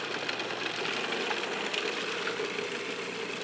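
Herbs and onion are whisked up, giving a steady, even mechanical whir that runs without a break and sits close and moderately loud, with no one speaking.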